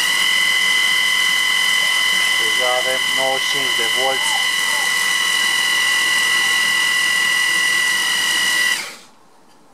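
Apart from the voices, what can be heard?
electric drill running slowly on a homemade generator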